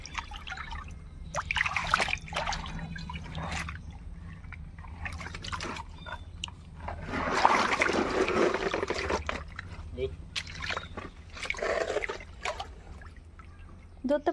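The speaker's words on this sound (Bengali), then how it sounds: "আচ্ছা জলটা ফেলে দাও" Water trickles and splashes as it is poured out of a pond catch while people hunt for magur catfish, with a few louder pouring bursts heard under ongoing talking outdoors.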